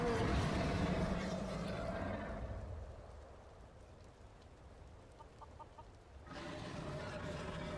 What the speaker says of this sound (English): There's a chicken on the porch.